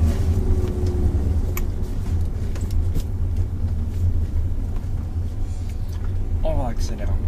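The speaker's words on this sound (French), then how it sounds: "Accélère un petit peu pour prendre de l'allure et tranquillement je te laisse passer la deuxième." A car's engine rumbles low and steady from inside the cabin during a manual-gearbox driving lesson, a continuous droning hum with people talking over it.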